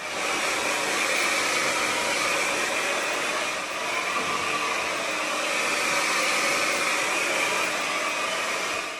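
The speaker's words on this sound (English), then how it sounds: "we're going to start blasting the hair dry" A hair dryer blowing hair dry runs continuously at a loud, steady roar, with slight swells as it moves and no talking.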